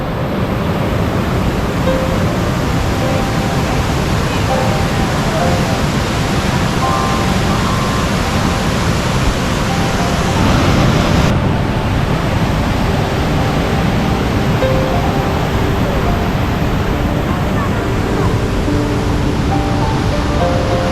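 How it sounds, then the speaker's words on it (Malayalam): Loud, steady roar of water plunging down Awosting waterfall, heard from the top of the falls, a dense continuous rush filling the whole clip with no voices. "ഇവിടുന്ന് നേരെ താഴോട്ടാണ് വെള്ളം ചാടുന്നത്"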